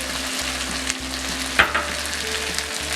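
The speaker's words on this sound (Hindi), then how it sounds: "अब हम इसमें गोभी के पकौड़े डालेंगे और इसे मिक्स कर लेंगे।" Fried cauliflower pakoras tumbled into sizzling Manchurian sauce, with a steady loud frying hiss and a few sharp scraping clatters of the mixing spoon near the middle, no one talking.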